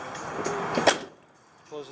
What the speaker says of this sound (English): So now when the door closes